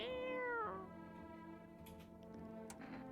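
A cat in a video game lets out one clear, drawn-out meow at the start, then soft ticking and small game sounds continue quietly behind it.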